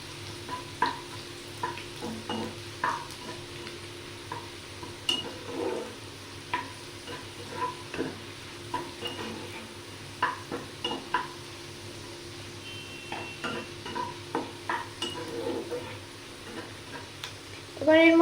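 A pan fries gently on low heat while a utensil stirs, giving a quiet bed of sizzle broken by repeated light scrapes and taps spread through the stretch. A louder clatter comes at the very end.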